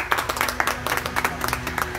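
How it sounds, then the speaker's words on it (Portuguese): A small group claps at a birthday party in a home setting, uneven individual claps close to the listener over a steady low background hum, lasting about two seconds. "Uma salva de palmas!"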